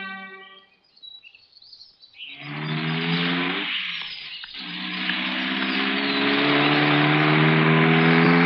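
A motorcycle engine revs and accelerates in a film scene, its growl climbing and holding loud and steady after a few bird chirps at the start.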